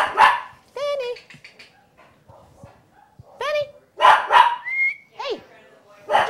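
Small Yorkie terrier indoors giving several sharp, high yapping barks in short bursts, with people talking between and over them.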